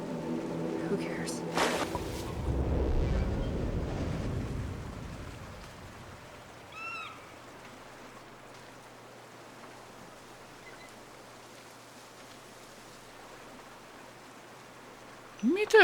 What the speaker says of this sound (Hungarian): Folyik a víz.